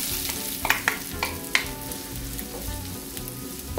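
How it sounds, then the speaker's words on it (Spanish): Garlic and onion frying in hot oil, a dense close crackling sizzle with occasional clicks and scrapes of a utensil against the pan. "Una vez que ya tenemos caliente el aceite, le vamos a poner el ajo y vamos a poner la cebolla"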